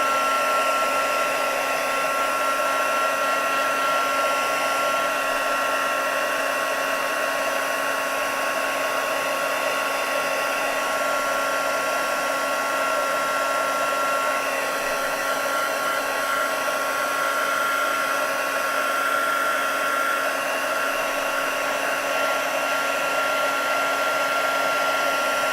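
A heat embossing gun runs continuously, giving a loud, even whirring blast of hot air that holds unchanged for the whole stretch, with no talking.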